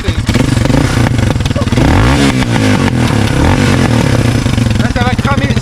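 A 125cc motorcycle engine cranks over a few times, then catches and runs with a loud, close, rhythmic clattering idle and uneven revs, with a voice talking over it.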